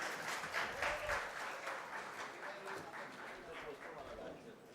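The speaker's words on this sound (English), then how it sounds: "Please give a big round of applause." Audience applause fills a ceremony hall as a guest is welcomed onto the dais at a book launch, steady dense clapping throughout with a few voices mixed in.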